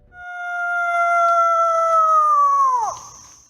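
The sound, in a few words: hunter imitating a coyote call with cupped hands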